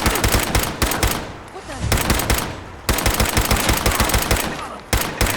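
Automatic gunfire in the video game Fallout 4 rattles out in loud, close bursts, several rapid volleys separated by brief pauses.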